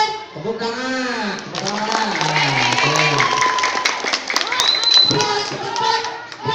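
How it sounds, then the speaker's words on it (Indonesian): Crowd applause rings out at a school flag-troop (Paskibra) performance by junior high students in Pameungpeuk, with clapping running under loud, overlapping shouted voices and calls across the whole stretch. "Tepuk tangan."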